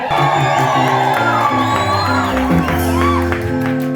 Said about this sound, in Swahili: Tumpatie Yesu shangwe na vigelegele.